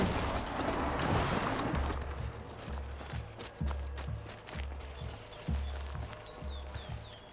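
Horse hooves in the video game Horizon Zero Dawn Remastered: a steady, repeating clip-clop of a mount trotting along, moderately close, over soft outdoor game ambience with no talking.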